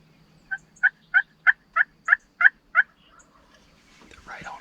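Several wild Rio Grande turkeys gobble in the Texas Hill Country, a run of about eight sharp, evenly spaced calls from a fairly close distance, followed by quieter rustling and soft background noise.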